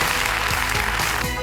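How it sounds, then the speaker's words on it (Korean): A studio audience applauds on a Korean TV quiz show, a dense, steady clapping at close range that fills the whole moment without any voice over it. "박수 한번 부탁드리겠습니다"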